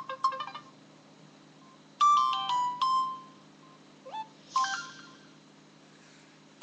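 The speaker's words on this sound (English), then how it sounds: "for message tones, you have three" Short electronic message tones from a Samsung T401G phone play in bursts: a quick run of beeps, then melodic chiming notes, then a brief rising chirp and another tone, each separated by quiet gaps.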